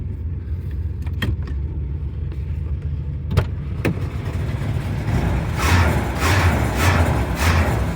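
An old pickup truck engine idles steadily with a low rumble, a few sharp clicks early on, then a rising squealing whine from slipping belts pulsing through the second half.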